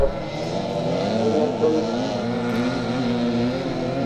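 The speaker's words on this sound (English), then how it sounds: "a 1974 KX250 Kawasaki that James is riding" A 1974 Kawasaki KX250 motorcycle engine races at a classic charity scramble in Northern Ireland, a steady, loud, buzzing two-stroke drone that holds throughout with slight pitch wavering, close and continuous.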